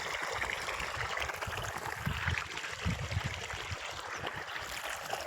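River water flowing through farmland, a steady rushing wash with low gurgling churn, continuous and fairly close, with no talking.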